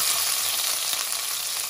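Pork stir-fried with holy basil in a hot pan gives a steady, loud, close sizzle and crackle that runs unbroken throughout, with no talking.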